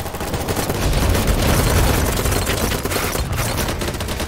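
Sniper rifle gunfire in a video game, heard as dense, continuous crackling battle noise with loud bursts layered over a rumbling background and no clear pauses.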